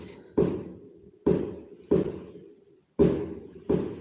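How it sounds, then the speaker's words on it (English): Fireworks going off outside, heard indoors as five sharp booming bangs at irregular intervals, each followed by a short decaying rumble, with no talk over them. "come on, that's enough fireworks."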